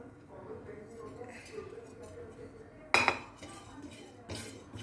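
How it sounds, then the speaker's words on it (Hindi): Fennel seeds are tipped into a pan for homemade masala, giving a short bright rattle and clink about midway and a smaller one near the end, over a low kitchen background with a voice faintly present. "सौंफ डाल दूंगी।"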